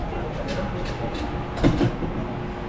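A bonde tram runs through Rio de Janeiro with a steady rolling rumble and a few rhythmic clacks. A heavier knock comes near the end, and faint voices are heard under it.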